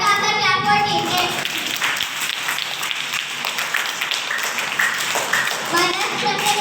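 Children clapping for a correct answer in a school quiz competition, a burst of brisk hand claps from a group that builds and carries on, with young voices and chatter mixed in.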